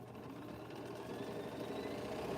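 A sewing machine chain-pieces jelly roll quilt blocks, running in one continuous, steady mechanical hum and rapid needle chatter with no pauses.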